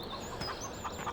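Hens on an old farm cluck softly from a short distance, a faint, scattered run of low calls with no one talking.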